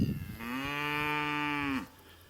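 A single long, low cow moo, close and clear, holding steady for over a second before cutting off, with no talking.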